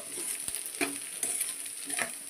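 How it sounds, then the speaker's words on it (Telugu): Blood fry curry sizzles steadily in a pan with masala, a constant bright frying hiss broken by a few soft scraping stirs, close and alone with no talking. "కాసేపు ఫ్రై అవనిద్దాం"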